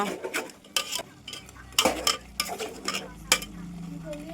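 Mutton being mixed by hand or spoon with ginger garlic paste and salt in a metal pot, giving a string of scraping, clattering stirs with irregular bursts, close and moderately loud, with no talk.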